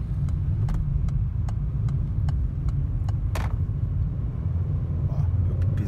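A 2022 Peugeot 208 Active hums steadily from inside the cabin while driving, a low continuous engine and road rumble with faint clicks and a brief knock partway through.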